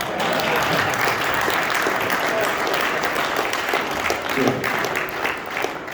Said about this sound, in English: this is the part where you clap for me